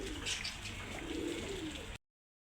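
A female pigeon of a fancy breed coos softly, a few low murmuring calls over faint background hiss, close and quiet with no talk.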